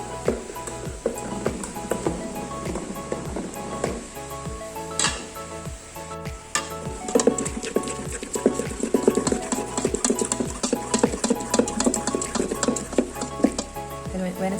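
Spoon or whisk working a dry mixture into wet batter in a bowl, a steady close rhythm of scraping, tapping strokes running throughout without talk.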